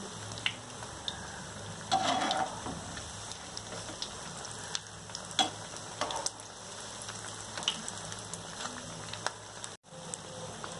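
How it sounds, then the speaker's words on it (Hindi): Mixed vegetable batata vadas deep-fry in hot oil while being flipped. A continuous crackling, rain-like bubbling carries on throughout, with occasional clicks and a brief louder clatter early on and a short dropout near the end. "वड़े एक साइड हमारे फ्राई हो चुके हैं अब मैं इसे पलट रही हूँ"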